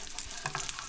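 Tortilla strips sizzling in hot melted butter as a spatula stirs them, a faint, brief burst of crackling and spitting lasting under a second.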